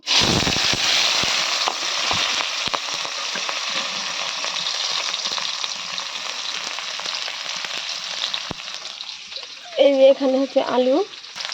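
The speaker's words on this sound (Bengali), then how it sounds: "এখন পেঁয়াজমরিচটা তেলের উপরে দিয়ে দিব" Chopped onions and chilies hit hot oil in a home kitchen and sizzle loudly and steadily, a dense close crackle filling the clip; near the end a brief voice speaks over the frying.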